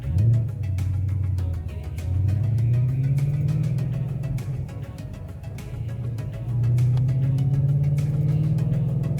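Ford Mustang engine with a throttle booster pinned at full throttle, a deep rising roar that swells twice with a slight dip between, steady and close.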